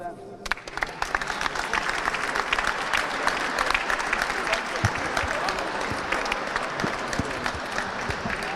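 A room applauds at a boxing weigh-in and press conference for an IBO international title bout, with sustained crowd clapping that holds steady throughout, dense and fairly close, with scattered sharper claps standing out.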